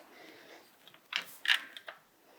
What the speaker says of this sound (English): we need to loosen the 3 8mm headed camshaft bolts